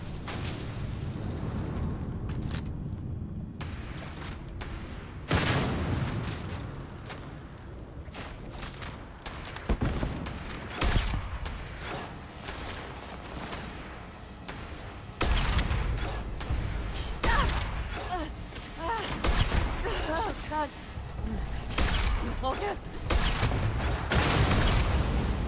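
Gunfire rings out in a Starfield firefight, with dense bursts of shots and booms repeating throughout, loud and close, along with intermittent mechanical game effects and no speech.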